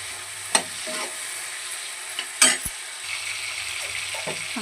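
Chopped tomatoes and green chillies soften in a hot pan, a low steady sizzle broken by a few scraping spoon strokes and sharp metallic clinks against the pan, close by and with no voices.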